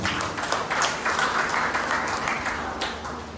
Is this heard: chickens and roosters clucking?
no